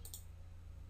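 A computer mouse clicks twice in quick succession right at the start while setting up a printer on Windows Server 2012 R2, followed by a steady low hum with no further clicks.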